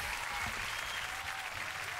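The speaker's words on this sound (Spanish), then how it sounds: "me gustan los aplausos" A studio audience breaks into steady, loud applause that fills the whole two seconds, dense clapping with a faint crowd murmur beneath it on a talk show.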